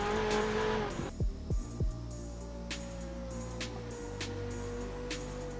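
Ferrari 488 Pista V8 cornering on a track, its engine note dropping sharply through quick downshifts, then holding a steady drone as the car runs through the bends, loud and continuous with no talking.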